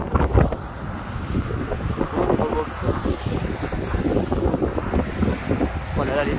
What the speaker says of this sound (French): ce que je trouve dingue, c'est que le vent sud-est se maintient